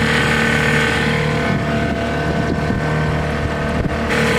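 A 1979 Johnson 6hp outboard motor runs steadily on a small boat, a loud continuous drone with some wind buffeting over the microphone, no speech.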